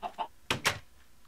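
A chicken in the Minecraft video game makes two soft, quick clucks, then two louder, sharper squawks in close succession, nearby and alone.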